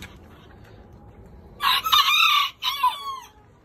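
A rooster crows loudly nearby, two bursts with a brief pause between, over a quiet background.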